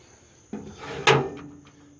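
A drawer on a Craftsman tool box slides open or shut, a soft slide followed by a sharp clunk as it stops, close and clear with no talk.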